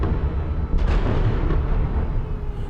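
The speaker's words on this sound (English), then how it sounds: "It's soon followed by the sounds of explosions." Explosions during a drone attack on Kyiv, a broad low rumble echoing off buildings with a sharper burst near the start, steady and heavy throughout with no voices.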